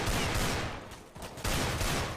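Dense, rapid gunfire in a Counter-Strike match, with Desert Eagle pistol shots among overlapping bursts from several weapons, loud and continuous with a brief dip midway.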